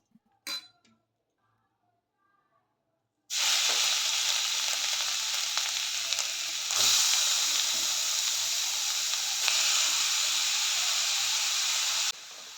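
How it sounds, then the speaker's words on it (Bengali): Grated carrot hitting hot ghee in a pan bursts into a loud, steady sizzle that holds for about nine seconds, with a few faint clinks early on and a sharp drop-off at the end. "ঘিটা ভালোভাবে গরম হয়ে গেলে তার মধ্যে গ্রেট করা গাজরটা দিয়ে দেব।"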